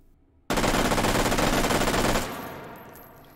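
Automatic fire from a FAMAS carbine fitted with a bipod and muzzle brake in the VR shooter H3VR: a loud, close, rapid burst of about 1.7 seconds that cuts off abruptly and leaves a decaying echo.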